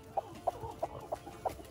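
A mother hen clucks in short, evenly spaced calls, about five soft clucks roughly a third of a second apart, close by over a low background.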